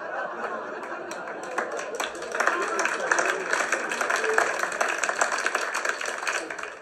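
An audience at a German comedy awards show claps and laughs, with scattered applause building to a denser burst of clapping and chuckles partway through, mixed with background talk.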